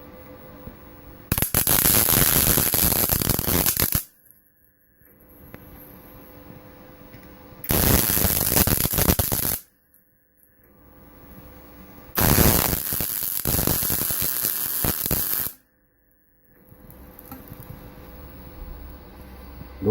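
Metal being welded to fill holes in a steel work table, in three long crackling bursts of arc with quiet pauses between them and no talk.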